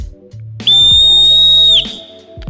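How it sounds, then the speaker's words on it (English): A tiny, low-quality whistle from a cheap survival kit gives one steady, shrill blast lasting about a second, close and loud, with quiet handling noise before and after. "We have the tiniest whistle I think I've ever seen."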